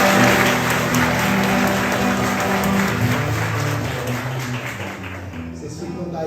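Audience applause during the first night of a novena for a Holy Cross feast in Carnaíba, a dense, sustained round of clapping from a crowd that gradually fades over several seconds.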